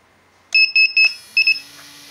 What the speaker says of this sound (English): Every time I change my modes, here's my beeper.